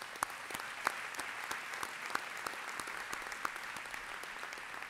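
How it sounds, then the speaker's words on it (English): An audience at a university presidential inauguration applauds for the faculty, steady moderate clapping from a large hall with individual sharp claps standing out, somewhat distant and even throughout. "And that deserves a round of applause."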